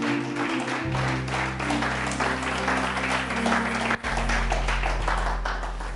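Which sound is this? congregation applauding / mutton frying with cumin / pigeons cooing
congregation applauding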